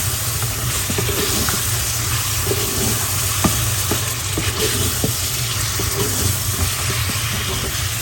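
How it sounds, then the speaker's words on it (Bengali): Local fish frying in a pan, giving a steady close hiss and sizzle with faint crackles, unbroken from start to end with no talk. "মাছটাকে একটু কষাই নিই।"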